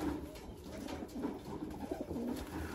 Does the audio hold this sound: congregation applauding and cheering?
no